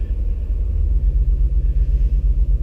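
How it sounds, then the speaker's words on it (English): A car engine idling as it warms up before a driving test run, a loud, steady low rumble with a faint pulsing throb, heard close with no voices. "I like to let the car warm up for a little bit"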